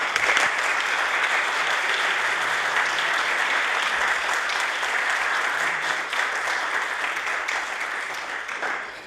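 Sustained applause from a large crowd fills a House of Assembly chamber, dense steady clapping throughout that tapers slightly near the end.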